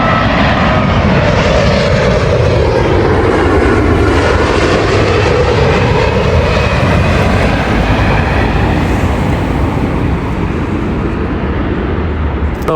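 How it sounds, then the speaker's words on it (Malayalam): Passenger airplane coming in to land at a London airport, a loud, steady roar of jet engines that swells and holds close by for the whole stretch, with no talk over it. "ഓരോ 30 സെക്കൻഡ് വെച്ചിട്ടാണ് കേട്ടോ വിമാനം ഇറങ്ങുന്നത്."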